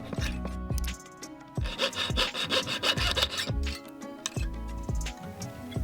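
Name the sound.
cutting a slot in a metal coin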